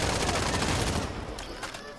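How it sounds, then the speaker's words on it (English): Rifle fire in Call of Duty Modern Warfare, a loud, dense crackle of shots that fades out after about a second, with a voice talking faintly underneath. "This sniper is sweet."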